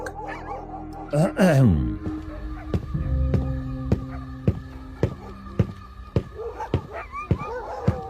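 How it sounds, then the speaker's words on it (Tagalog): Dogs in a village yip and let out a drawn-out falling howl, followed by whimpering and scattered sharp clicks and knocks. "Hindi maganda ang mga alulog ng mga aso ngayon."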